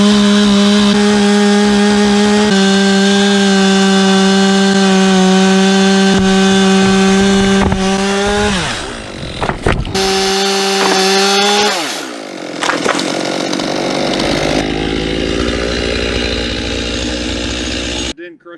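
A chainsaw with a GoPro mounted on it cuts through a tree branch, its engine a loud, close, steady buzzing drone that dips and bogs as the blade bites into the wood, then surges back up with rough sawing noise.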